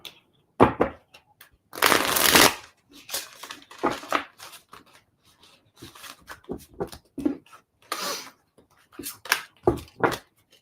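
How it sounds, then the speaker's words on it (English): A deck of tarot cards being shuffled by hand, giving bursts of riffling and sharp card snaps in an irregular rhythm, close and fairly loud with short silent gaps between. "Let's give them a good wee shuffle."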